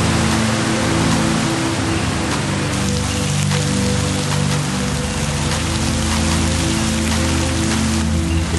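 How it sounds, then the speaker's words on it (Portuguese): Heavy rain driven by strong wind in a stormy eucalyptus area, a loud, dense, continuous roar of pouring water under a low rumble, with no voices. "chuva forte, com vento, chuva pesada mesmo"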